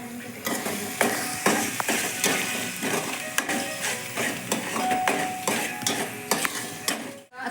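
Pav bhaji with turmeric being stirred and fried in a pan: a spoon scrapes and clacks repeatedly against the metal in an irregular rhythm over a soft, steady sizzle, close up, ending in a brief pause.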